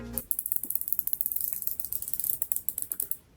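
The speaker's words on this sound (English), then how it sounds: "this is a 120 click unidirectional bezel, and I'll just give you a little sound test" Aluminum 120-click unidirectional bezel on a Pagani GMT Pepsi watch being turned, a rapid, even run of crisp tiny clicks, close up and quiet, with no talking.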